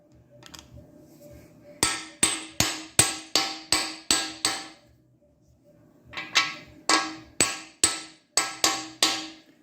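Rapid rattling impacts from an impact wrench fitted with an impact socket drive bolts on a 351 Windsor engine for a 1968 Galaxie 500 convertible, in two close bursts of sharp hammering blows with a quiet pause between.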